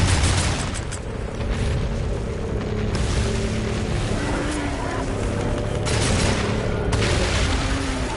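Dense, continuous booming and rapid firing while shooting at grinders in Darksiders 2, a loud unbroken wall of blasts and mechanical rumble that runs throughout with no talking.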